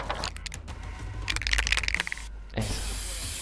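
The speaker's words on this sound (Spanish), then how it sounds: "a lo que agitas en el control suena como latas mismo de spray" Short rattling bursts of a spray paint can being shaken in the video game Infamous Second Son lead into a steady hiss of spraying near the end, fairly quiet.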